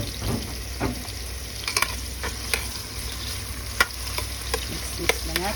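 Garlic, added after onion, sautés and is stirred in a hot pan while cooking menudo, a steady close sizzle broken by scattered scraping clicks and taps of the spoon, with no talking.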